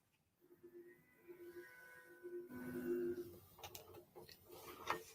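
A QBOT V3 quilting robot on a quilting frame travels to its start point, giving off faint whirring motor tones and soft ticking, with a brief louder mechanical clatter near the end.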